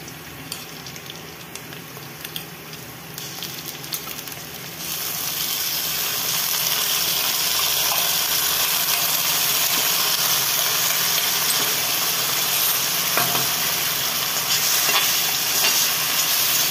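Onion frying in hot oil with ginger-garlic-chili paste added and stirred, for a U.P. style potato and pointed gourd curry: a faint sizzle swells into a loud, steady hiss and crackle that carries on with no voices over it.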